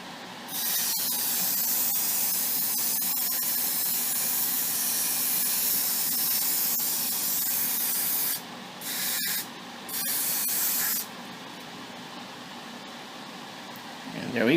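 Paint hisses from a spray can onto a cosplay prop part in long, steady bursts, close and fairly loud, with short breaks between passes near the end.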